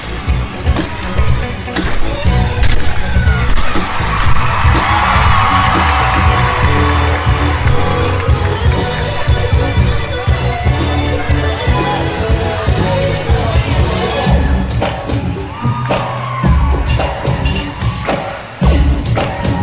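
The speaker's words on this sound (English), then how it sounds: "Crowd goes wild for that opening double layout." A big arena crowd roars and whoops for a gymnast's opening double layout in a floor routine, a loud, dense, continuous swell of cheering with scattered thuds and clinks beneath it.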